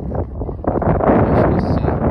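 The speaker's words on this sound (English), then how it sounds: "it's kind of windy." Wind on a mountain top on the Summitridge Trail buffets the microphone in rough, rumbling gusts that swell louder after the first moment and stay strong.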